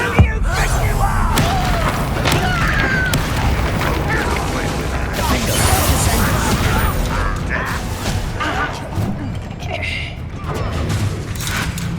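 Bombarda blasting spell explosions in the Hogwarts Legacy video game on PS5, heavy booms buried in a continuous wall of loud battle noise and mechanical clatter, with voices talking throughout.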